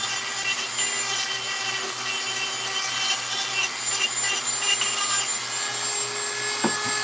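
Steady power-tool whine with a dense scratchy texture, like an electric sander running continuously, sanding the edges of burnt wood, close by and without pause.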